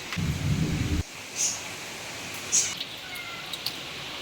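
Heavy monsoon rain with thunder at a village home, a steady broad hiss of downpour throughout, with a deep rumble swelling in the first second before fading into the continuous rain.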